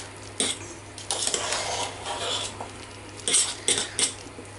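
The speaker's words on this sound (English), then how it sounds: "And a fork. And just whisk it." A fork whisks milk, likely with potato for mash, in a bowl, clinking in quick irregular bursts of scraping taps against the dish, close and fairly loud over a quiet kitchen hum.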